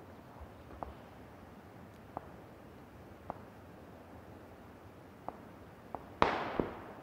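Distant gunshots crack in a video game, spaced irregularly as faint single pops, with one louder, closer shot near the end followed by another.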